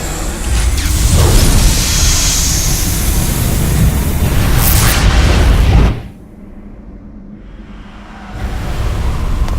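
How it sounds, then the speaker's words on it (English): Massive explosion in a Xenosaga Episode I cutscene: a loud, sustained roaring blast with deep rumble that suddenly cuts to near silence, then a lower rumble swells back in, with no voices. "We'll be caught in the explosion!"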